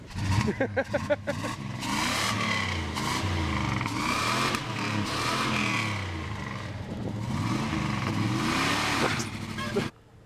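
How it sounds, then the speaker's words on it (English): A truck's loud engine roars and revs continuously with rising and falling pitch during a burnout, tires spinning, with some voices mixed in underneath. "Do a burnout?"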